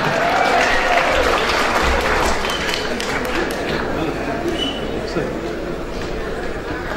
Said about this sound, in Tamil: நீங்கள் இப்படி கைதட்டுவீர்கள் என்று தெரிந்தால் நான் சொல்லாமலேயே இருந்தேன்.